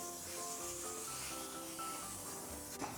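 Air conditioner cleaning foam being sprayed from an aerosol can onto an AC unit in a condominium, a steady faint hiss running throughout with a small knock near the end.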